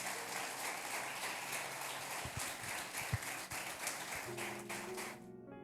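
A church congregation applauds during an evening worship service, a steady wash of clapping that carries on for several seconds, with a brief musical tone entering near the end.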